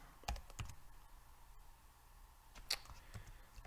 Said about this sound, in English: I'm clicking undo there.